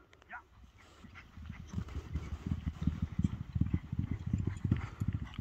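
Horse hooves clip-clop in a quick, steady rhythm on the ground at a horse sale, fairly close. Faint voices are heard at the start.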